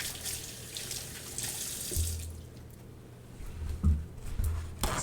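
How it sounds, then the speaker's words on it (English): Running tap water splashes into a sink as hands are washed while making dango, a soft steady flow with brief louder bursts, no talk. "I'm going to wash my hands again."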